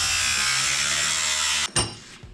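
A power tool cuts steadily through a metal rod on a custom truck in a shop, a bright continuous grinding whine that suddenly stops, followed by a brief clatter and quieter mechanical noise.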